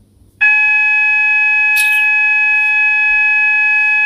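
An electronic alarm starts abruptly and sounds a loud, steady tone that holds without a break to the end, with a brief rustle partway through.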